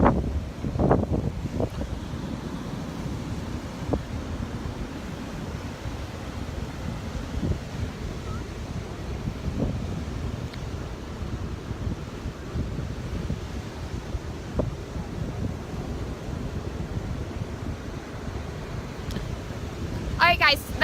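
Strong, steady wind buffets the microphone at a beach in Destin, Florida at sunrise, a constant low roar that buries the faint surf behind it for the whole stretch, with a few brief knocks.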